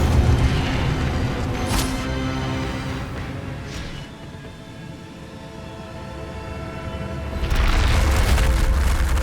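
Casting Incendio in Hogwarts Legacy unleashes sharp whooshing fire bursts, two quick blasts early on followed by a heavier, sustained roaring flare near the end, over a low rumbling game backdrop.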